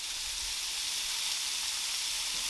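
Barbacoa beef pieces searing in a hot pan, a soft continuous hiss of sizzling fat held steady and even throughout, fairly faint and close with no voices.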